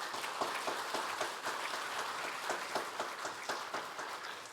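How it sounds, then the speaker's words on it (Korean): A church congregation applauds to welcome a missionary to the front, a soft, continuous patter of many hands heard from a distance at a steady level. "박수로 한번 환영하겠습니다."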